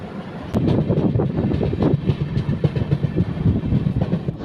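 The Bhavnagar-Kakinada Port SF Express sits halted at an unscheduled stop near Eluru, with a low rumbling idle, scattered clanks and rattles, and wind buffeting the microphone.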